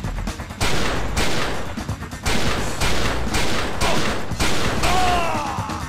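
Gunfire in the video game XIII sounds as loud, rapid volleys of shots in several bursts with brief gaps, close and dominant, with other game sounds underneath.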